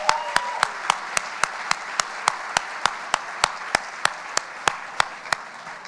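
An audience claps at a 2018 State of the City address, one sharp, evenly spaced clapper standing out close by over a softer wash of crowd applause throughout.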